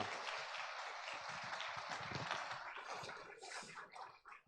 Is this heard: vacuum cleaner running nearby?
no